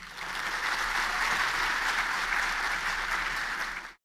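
Sustained applause from a lecture audience during a motivational talk, steady and dense across the whole stretch, fairly distant, then cutting off abruptly at the end.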